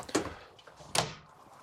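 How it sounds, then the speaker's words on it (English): A screen door in a 2021 Wildwood Grand Lodge 42FK RV rattles and bangs, with two sharp knocking, sliding impacts a moment apart in a quiet interior. "Apparently I need to reinstall a screen door"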